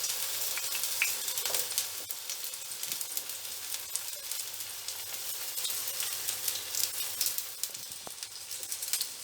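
Eggplant pieces fry in a pan, laid one at a time without overlapping, giving a steady, close hiss and crackle of hot oil that runs unbroken throughout with no voices.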